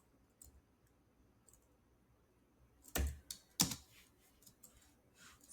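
Keys clatter on a computer keyboard as a name is typed in, a few scattered taps early on, then a cluster of sharper, louder clicks in the last half, close and quiet with no talking.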